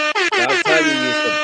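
Loud air horn blasts, a few rapid stuttering honks followed by one longer sustained blare.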